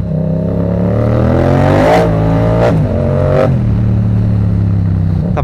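A motorbike engine revs loudly and close up, rising in pitch with three sharp throttle blips and gear changes before settling into a steady high-speed drone.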